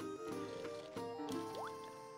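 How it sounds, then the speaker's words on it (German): Watering flowers in the Harvest Moon DS farming game gives soft, quiet liquid splashes and gurgles mixed with the game's background music, with short effect sounds dropping in and one rising tone near the end. "So, erstmal Blümchen gießen."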